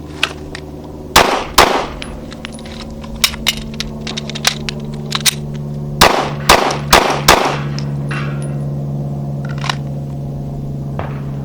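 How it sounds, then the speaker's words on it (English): Gunfire from a carbine and pistol drill: one sharp shot early, then a tight rapid string of about five loud cracks a few seconds later, with small clinks and knocks from handling the firearms in between and no talking. "Stand by. 6 shots."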